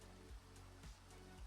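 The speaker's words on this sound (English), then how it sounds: "And it's raining." Rain falling in the video game Minecraft, a soft continuous hiss heard faintly, with a few low dull thuds underneath.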